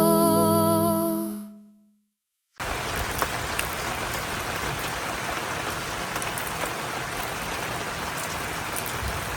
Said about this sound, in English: the rain suddenly poured